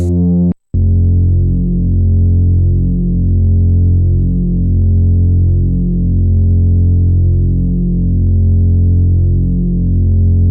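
A synthesizer saw wave oscillator drones loud and buzzy, stacked with a sub oscillator and a second oscillator, after a brief gap near the start, then holds steady with a slow wavering pulse.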